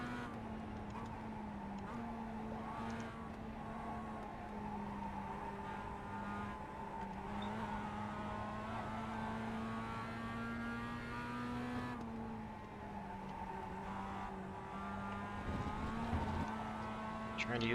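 Mazda MX-5 race car engine in iRacing's Global Mazda MX-5 Fanatec Cup at Lime Rock, a steady sustained drone with rising and falling pitch through gear changes, continuous and fairly loud throughout.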